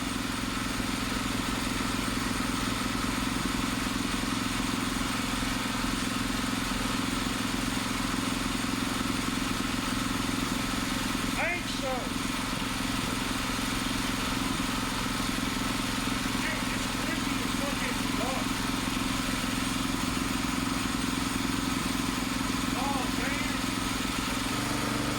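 A motorcycle engine runs steadily at idle, a constant close mechanical drone with a faint throttle blip partway through and no speech.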